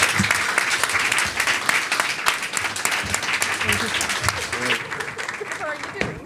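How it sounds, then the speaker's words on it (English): A live audience gives sustained, even applause for chef Eric Adjepong at a fireside chat. The clapping is dense and moderately loud throughout and does not fade. "Please give him a huge round of applause."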